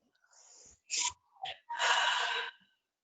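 Deep, audible breaths drawn in and pushed out in a short sequence, a faint inhale followed by two quick breathy bursts and one longer, strong exhale, close up with no talking.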